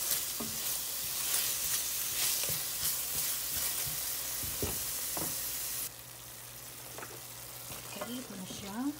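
Pork frying in a pan with munggo and sigarilyas (winged beans) being added, giving a steady close sizzle with stirring and clatter, interrupted partway by a drop in level.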